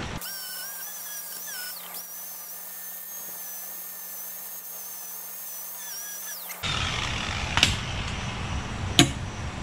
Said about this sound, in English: So, let's get going with our wire brush.